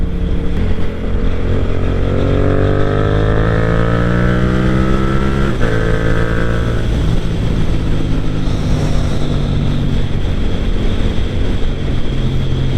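Yamaha MT07 motorcycle engine revving up and down through quick-shifter gear changes, rising harmonic whine dropping sharply at each shift, loud and close under steady wind buffeting.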